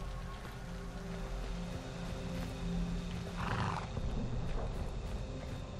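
Horses in the video game Weird West, with snorting and whinny-like calls over a steady ambient game bed, including one louder burst midway, continuous and moderately close.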